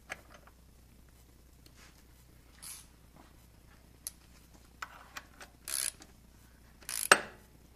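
A camshaft sprocket puller works a sprocket off during a timing belt change, giving faint, scattered metallic clicks and ratcheting ticks with a short scraping clunk near the end.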